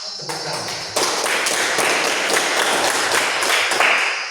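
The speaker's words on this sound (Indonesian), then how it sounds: "kita tepuk tangan" A classroom of students claps their hands together, starting with a few scattered taps then breaking into loud, close rhythmic clapping in repeated bursts, with some desk thumps mixed in.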